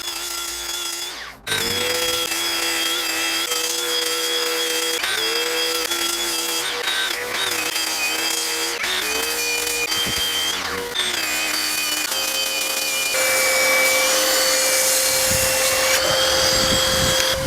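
A Makita 40V cordless belt sander works big, heavy wooden boards, its steady high whine running loud and close throughout with brief pauses and changes in pitch as it bears down.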